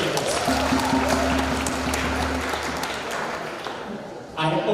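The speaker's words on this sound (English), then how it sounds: "Can we all clap for our educators?" An audience applauds educators at a drama festival award ceremony in Kasarani, producing a dense, steady wash of clapping with a low tonal hum underneath that thins out toward the end.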